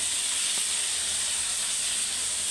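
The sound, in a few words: tomatoes sizzling in hot oil for egg sambal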